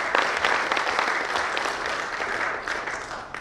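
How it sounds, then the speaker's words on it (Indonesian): An audience at an Indonesian business and logistics forum applauds the deputy minister, a loud, sustained round of clapping from a seated crowd with no talk over it. "jadi mari tepuk tangan Bapak Wamen."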